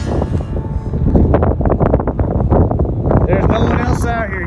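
Steady wind gusting across a secluded campsite beside a small camper, loud and continuous with buffeting against the microphone, while a person talks throughout.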